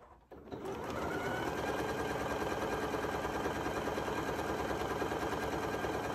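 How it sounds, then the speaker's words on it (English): A Janome Memory Craft MC9450 sewing machine runs steadily on a face mask seam with the A foot, a loud, even mechanical whir that starts after a brief pause and continues unbroken to the end. "I'm gonna sew my seam"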